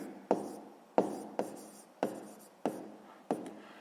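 Pen strokes on paper during a sixth-grade maths exercise come as about six quiet, separate scratchy bursts at a roughly even pace, close and alone.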